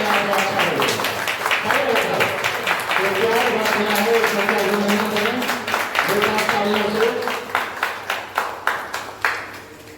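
Teachers at a farewell ceremony for a retiring education officer give a standing ovation, loud sustained applause under an amplified voice speaking over it, thinning to a few scattered claps at the end.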